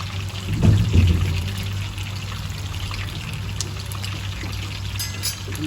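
Water pours briefly into a basin to soak sliced eggplant, a short splashing burst near the start that settles into a low trickle under steady kitchen background hum.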